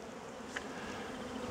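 Honeybees buzz steadily around the hives at a bee farm in the Balkan mountains beside flowering meadows, a dense continuous hum close by with no voices.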